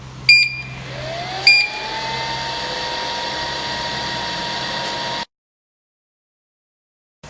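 A heat transfer 3D printing machine for plastic iPhone covers, set to 200 degrees, starts with two sharp clicks, then runs with a steady whirring hum and rising tone for several seconds before cutting off abruptly.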